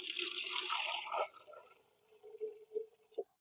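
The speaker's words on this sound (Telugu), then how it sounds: "అందులో కొన్ని వాటర్ పోసుకోండి" Water pours briefly with a splashy rush into a plastic container, then trails off into a few soft drips and light knocks.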